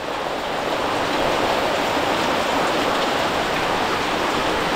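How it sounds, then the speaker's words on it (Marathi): A storm with heavy rain at a village house, heard as a dense, continuous roar of downpour that swells slightly at the start and then holds steady and loud, with no voices. "असं हे वादळ आलं ना, वादळ बघा किती आहे"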